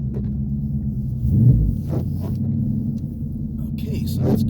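A 2016 Ford Mustang GT on Bridgestone Blizzak WS80 winter tires gets light throttle, giving a low, steady engine rumble heard from inside the car with a slight swell as it pulls away.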